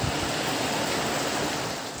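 Steady broadband wash of rising sea waves rolling and breaking continuously at close range in Tacloban, Leyte, with no voices.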